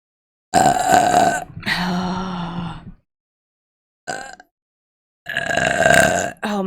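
A long, loud, guttural burp erupts up close, then a second drawn-out belch follows, a short croak after a pause, and a final loud burst, all with no other sound between them.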